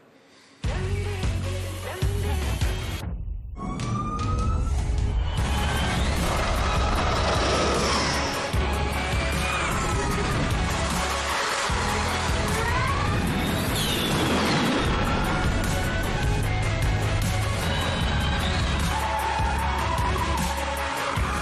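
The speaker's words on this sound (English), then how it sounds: "Max and Checo have already been having a little fun in Ford's electric vehicles." A Ford electric van pulls handbrake turns, its tyres screeching and skidding loudly in long sustained bursts, with no engine roar beneath.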